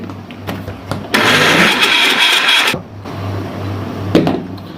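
A kitchen blender grinds lassi ingredients with a half teaspoon of salt, whirring loudly for a couple of seconds between quieter clicks and handling noises.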